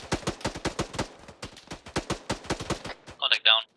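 Rapid, loud gunfire from an enemy firefight in ArmA 3 cracks out as a rhythmic string of shots, like automatic bursts, ending with a brief high-pitched electronic or radio sound.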